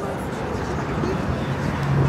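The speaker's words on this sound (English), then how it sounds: "it's very noisy because we're sitting at the table, like, right next to the cars" Steady traffic noise from cars passing right beside an outdoor table, a continuous low rumble and whoosh that holds throughout at moderate loudness.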